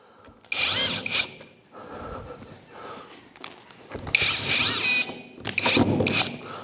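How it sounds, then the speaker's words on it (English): A power drill drives long screws through a cabinet side in several loud whining bursts of varying length, separated by quieter handling noise and clunks of wood. "I'm going to replace those with 4 longer screws that will go through the whole lot and actually screw it to the side of the cabinet."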